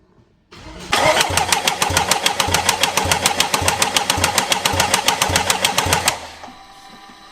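A Jaguar XF starter cranks the engine over in a rapid, steady rhythm of loud, close pulses lasting about five seconds before cutting off, with no catch into running.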